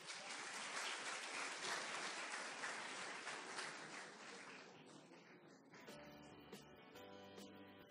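Applause from a seated audience at a Brazilian conference talk on intellectual property and innovation, a dense, steady clatter of many hands for about six seconds that then thins out into scattered claps, with no voices heard.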